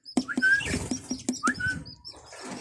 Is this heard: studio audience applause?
no